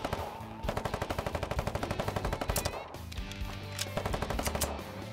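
Rapid machine-gun fire from weapons shelling a bunker in the online war game Foxhole: steady, evenly spaced bursts at moderate volume, a brief pause, then further scattered shots.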